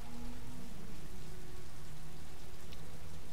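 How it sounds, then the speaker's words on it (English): Steady rain in the video game Heavy Rain, a constant dense patter and hiss of falling water with faint low tonal hum beneath it, unbroken and fairly loud, with no speech. "And it's still raining."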